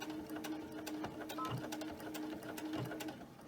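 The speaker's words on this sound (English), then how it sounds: "you're going to backstitch here" A sewing machine backstitches a seam on a fabric face mask, its needle chattering in quick rapid bursts with short pauses, close but fairly quiet.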